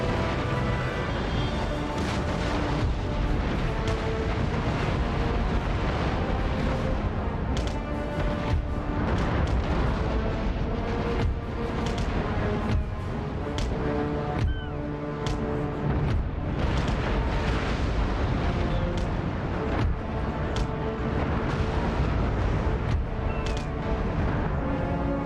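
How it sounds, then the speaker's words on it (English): Cannons fire again and again across a naval battle in Empire: Total War, heavy booms and crashes piling up into a dense, continuous barrage at close range with no pauses. "Those guns firing."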